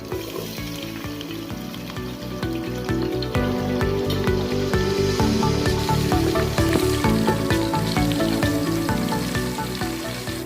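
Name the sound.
shallots frying in oil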